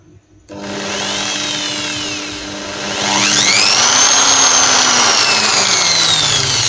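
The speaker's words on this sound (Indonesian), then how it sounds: "Bisa diperhatikan putaran bor sangat kecil sekali" An electric drill runs through a homemade dimmer. The motor starts after a short silence with a low, slow whine, then its pitch and loudness climb partway through as the speed rises, and it keeps running on its own.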